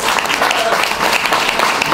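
An audience at a swearing-in ceremony for Lester B. Bird breaks into dense, close, continuous applause, a steady wash of many hands clapping together throughout.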